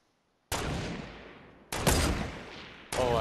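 Sniper rifle shots ring out in Fortnite Battle Royale, three sharp, loud cracks about a second apart, each trailing into a long decaying echo.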